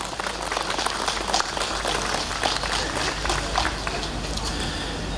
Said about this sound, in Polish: Jeszcze raz, moi drodzy, gorące brawa.